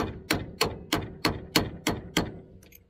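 A hammer taps around a collar on a three-speed column shifter, giving eight sharp metallic strikes at a steady rhythm of about three per second, close and loud with no talk.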